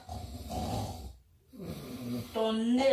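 A person snoring heavily, like a big truck, in a few rough, low rasping breaths with a short pause between them, close and fairly loud.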